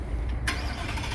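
A 2022 Ford F-150 King Ranch with a 5.0L engine starts remotely, a sudden broadband burst as it fires, then settles into a low, close rumble.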